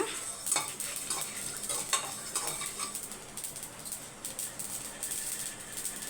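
Spices crackle and splutter in hot oil in a pan, a close steady sizzle with scattered sharp pops and light clinks of a spoon stirring, no voices.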